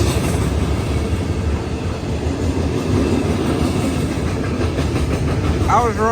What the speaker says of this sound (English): this is going to be a huge train